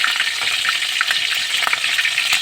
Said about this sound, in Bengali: আর এখন আমি দিয়ে দিব প্রথমে রসুন বাটাটা তারপর দিয়ে দিচ্ছি আদা বাটা